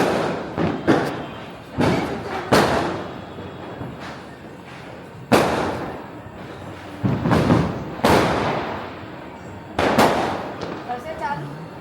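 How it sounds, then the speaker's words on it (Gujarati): Diwali firecrackers burst one after another at a family home, a string of sharp loud bangs and cracks with echoing tails, some clustered and some spaced a few seconds apart, with faint voices between them. "ત્યાં બધા ફટાકડા ફોડતા હશે"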